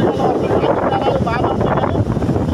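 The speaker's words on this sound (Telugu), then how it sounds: "భారీగా వర్షం పడుతూనే ఉంది. దానికి తోడు గాలులు" Strong wind and heavy rain from Cyclone Fengal lash Vizag as a loud, steady broadband roar and rush that fills the whole clip without a break.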